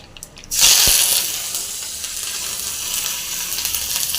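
Mustard seeds and curry leaves dropped into hot oil for a chutney tempering, bursting into a sudden loud sizzle with a sharp spatter, then settling into a steady frying crackle close by, with no talk.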